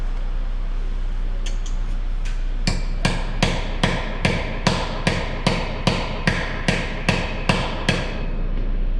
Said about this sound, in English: Sometimes you got to drive it on a little harder.